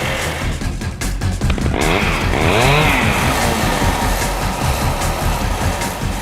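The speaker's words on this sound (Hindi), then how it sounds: "हम तुम्हें कुछ बाइक्स की आवाजें सुनाएंगे" A nearby motorcycle engine revs up in rising sweeps, then settles into a loud, steady, buzzing idle.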